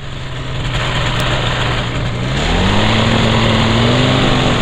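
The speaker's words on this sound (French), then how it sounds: "Petite chauffe moteur." A paramotor trike's engine warms up nearby, a loud steady buzzing drone whose pitch climbs gently toward the end, with no talking.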